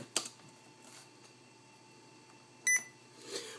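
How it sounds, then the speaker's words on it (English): A short, sharp electronic beep from an IBM ThinkPad 600X laptop as an item is selected rings out clearly over faint background hum, with a few softer clicks scattered around it. "when you select anything here, it always, just kind of makes a beeping noise"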